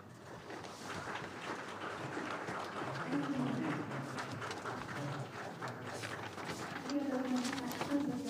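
An audience at a joint Toyota press conference applauds, a steady wash of many hands clapping at moderate distance, with a voice speaking over it.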